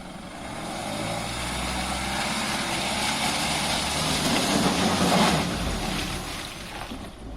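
Land Rover Defender driving in third gear across a grass and gravel test course, a continuous low engine drone that swells and fades a little, with tire rumble and rustling, no talking.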